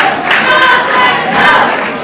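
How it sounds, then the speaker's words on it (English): A wrestling arena crowd yells and cheers in two loud surging waves, a dense roar of many voices close and filling the space. "The crowd begins to yell"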